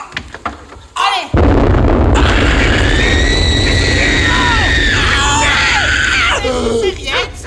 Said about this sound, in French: C'est rien, c'est une explosion de baraque à chichi.